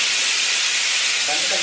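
Steam hissing hard from a pressure cooker while sambar cooks in a home kitchen, a loud, steady, close jet of bright hiss lasting the whole moment.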